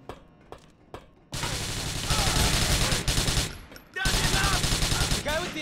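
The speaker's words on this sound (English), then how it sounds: "I'm gonna use SMG, it's very easy to shoot" SMG fire in Grand Theft Auto IV: a few sharp single shots, then long loud sustained bursts of rapid automatic fire with a brief pause between volleys, no talking over it.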